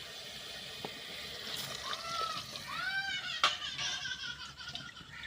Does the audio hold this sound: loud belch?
no